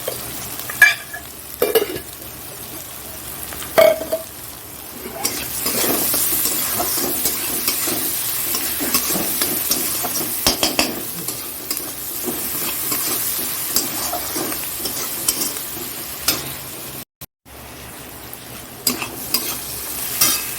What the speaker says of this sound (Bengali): পেঁয়াজটা দেখো লাল লাল ভাজা হয়ে গেছে